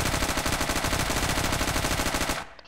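Submachine gun in the Zero Hour shooter firing one long rapid burst of even, closely spaced shots, loud and near, cutting off abruptly at the end.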